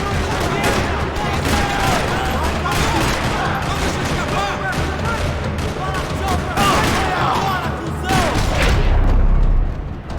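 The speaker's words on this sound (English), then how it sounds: "Another parking lot rattling with gunfire." Dense, continuous gunfire rattles through a parking lot in the video game Max Payne 3, rapid overlapping shots and bursts with booming impacts, loud and sustained throughout, with some voices mixed in.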